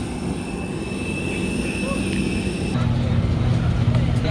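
Airliner engines droning steadily as heard from a window seat beside the aircraft door, a broad constant roar that grows louder and deeper partway through, with no voices.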